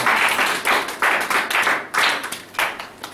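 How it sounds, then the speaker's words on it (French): Church congregation clapping together in a steady, loud rhythm of bursts, roughly every half second, with no voices above it. "Acclamation pour le Seigneur"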